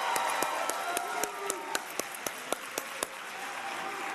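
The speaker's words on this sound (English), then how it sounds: "Can we give Jason Kelsey a round of applause?" Crowd applause at a presidential speech in Philadelphia, with scattered sharp claps standing out over a dense, steady wash of clapping, continuing evenly throughout.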